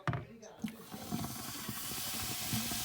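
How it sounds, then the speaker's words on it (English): Vinegar poured down a sink drain, a rushing, gurgling flow that steadies into a continuous hiss of running water, close by. "And then we're going to pour the vinegar down"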